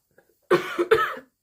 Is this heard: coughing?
yes